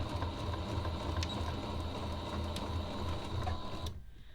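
A sewing machine runs in a steady, continuous mechanical whir while stitching a fabric baby bib, humming close by for several seconds before stopping abruptly near the end, with no voices.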